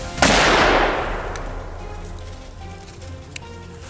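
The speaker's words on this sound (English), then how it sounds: "He chambered another round and pulled the trigger again." A loud rifle shot fired at wild boar near a farm, a single sharp crack followed by a long rolling echo that fades over several seconds outdoors.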